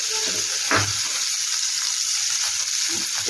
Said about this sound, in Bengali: পেঁয়াজটা এই তেলের মধ্যে দিয়ে দেবো। ফ্লেমটা আমার কমানোই আছে, না হলে ছিটতে থাকবে।